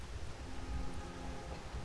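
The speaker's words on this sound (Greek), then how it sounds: "βρέχει." Steady rain falling outdoors on Nuku Hiva in French Polynesia, a dense, even hiss of drops with a low rumble underneath, continuous and fairly soft throughout.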